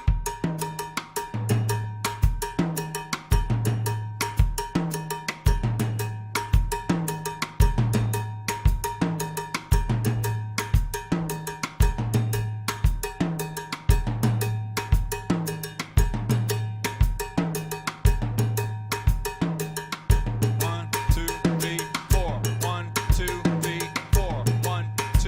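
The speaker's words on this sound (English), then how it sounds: "it kind of, all gels into this nice little thing and it flows around the drum set very easily" Drum set groove with cowbell, a steady repeating pattern of sharp kit hits and bright cowbell strokes, close and loud for the whole stretch with no talking.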